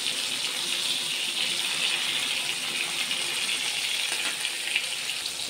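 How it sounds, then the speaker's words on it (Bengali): Prawns and poppy seeds fry in oil with a constant, fairly loud hiss and faint crackle, steady and unbroken from start to finish. "মাছগুলো লালচে লালচে করে ভেজে নেব"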